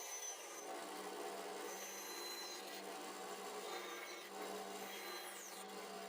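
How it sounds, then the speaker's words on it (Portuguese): A band saw cuts through a wooden knob in a home workshop, giving a steady, continuous rasping whir that holds at an even level for several seconds with no talking. "Depois posso levar a serra de fita e cortar o botão."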